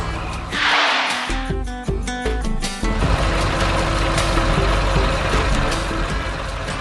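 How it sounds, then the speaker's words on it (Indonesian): Green and blue trucks arrive with heavy loads at a rail construction site, their engines rumbling steadily and loudly, with a short run of beeps near the start. "Truk hijau dan biru itu datang membawa beban berat."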